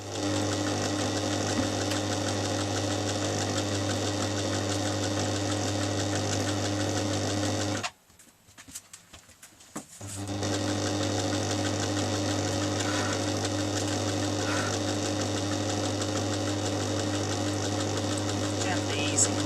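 A sewing machine stitches denim from a pair of jeans, a steady close mechanical whirr that halts for about two seconds before starting again.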